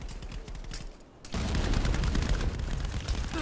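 Gunfire and grenade blasts from a competitive VR shooter match, dense rapid shots first, then a sharp drop and a loud sustained barrage of overlapping fire and explosions.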